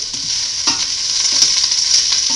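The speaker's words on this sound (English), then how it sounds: "I'm going to saute the onion" One small sweet onion sautés in oil over medium heat, a steady close sizzle with a few soft stirring scrapes and no talking.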